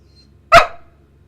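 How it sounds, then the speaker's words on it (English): A single sharp, loud bark from a dog nearby, sudden and short with a quick fade, in an otherwise quiet room. "Told you he was gonna bark."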